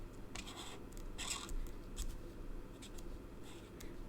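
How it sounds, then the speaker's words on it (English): Pen drawing small circles on paper while making an owl-themed fold card, a run of soft, close scratchy strokes in short repeated bursts with quiet pauses between them. "Drawing circles."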